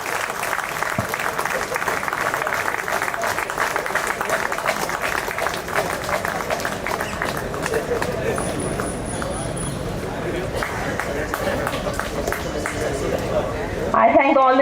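Sustained crowd applause at an outdoor inaugural ceremony for a sports zonal event, a dense continuous clatter of many hands running throughout at an even level.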